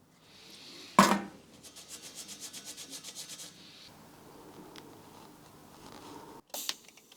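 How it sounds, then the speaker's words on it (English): Arc welding at a workshop bench, controlled by a foot pedal: a sharp crackling strike, then a quiet, even run of rhythmic pulsing buzz that shifts to a softer hiss and ends with a brief burst. "All right, let's do a weld with it."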